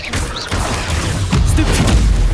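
Incendio fire spell cast in Hogwarts Legacy, a sequence of loud whooshing bursts and rumbling booms close up, with a fresh surge of fiery impact near the end amid battle noise.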